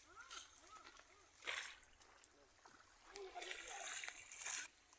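Water splashes and sloshes faintly in the sea as someone swims, with scattered light splashes and a brighter rush near the end, under soft background voices.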